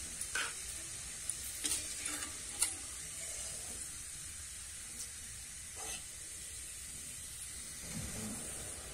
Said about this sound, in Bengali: এই বোঁদেগুলোও কিন্তু ভাজা হয়ে গেছে